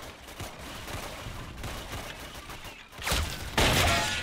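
Gunfire from a Roblox WW2 shooter game, with bursts of shots building toward the end, including a loud blast near the close, over a steady noisy battle background.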